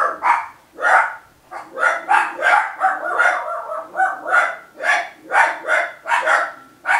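A dog barks repeatedly in quick bursts, sharp and rhythmic, with short pauses between volleys, sounding somewhat distant.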